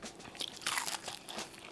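Crunchy air-fried chicken wings being bitten into and chewed, a close series of crisp crackling crunches lasting under two seconds with no talking.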